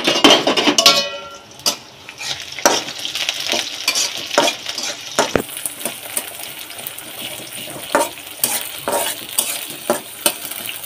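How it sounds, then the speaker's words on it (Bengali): Turmeric, chili powder and salt in a hot pan after a splash of water, sizzling loudly at first then settling into steady frying with repeated sharp metallic stirring clinks and scrapes. "এখন এখানে একটু পানি ইউজ করব।"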